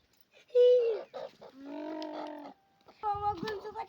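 A hen with a brood of chicks makes a series of close, loud clucks and drawn-out calls in a village yard, with short pauses between them.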